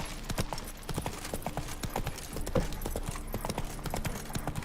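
Roach the horse's hooves clip-clop in The Witcher 3, a steady, quick rhythm of moderate, close hoofbeats on hard ground with faint background ambience.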